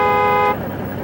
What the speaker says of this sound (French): Les klaxons,